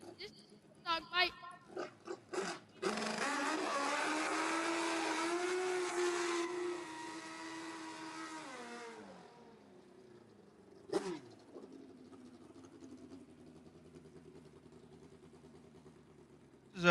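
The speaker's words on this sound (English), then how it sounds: "This is a BPM Racing Engines Pro Stock Light." A BPM Racing Engines Pro Stock Light drag racing engine roars loudly at the finals event, a sustained rising blast lasting several seconds before cutting off, followed by a brief burst and a lower idle, with a voice talking over it.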